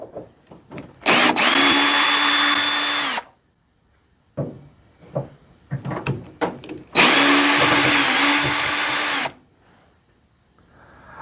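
A cordless power drill whirs in two long bursts, with short trigger taps and pauses between them, as it backs screws out of the rear casing of an EdenPure space heater.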